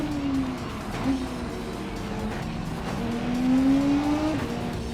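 Race car engine in Gran Turismo 7 braking and downshifting through fourth and third gear, a loud continuous whine whose pitch drops and climbs with each shift, with some tire noise through the corner.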